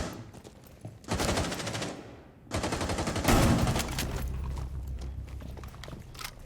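Rapid bursts of video game gunfire crackle in two sustained volleys, loud and close, with a sniper exchange and a heavier rumble after the second burst.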